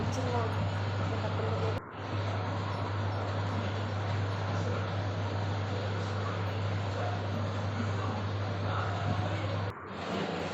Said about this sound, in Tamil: தண்ணி ஆட் பண்ணி மிக்ஸில் நல்லா கிரைண்ட் பண்ணுறேன்.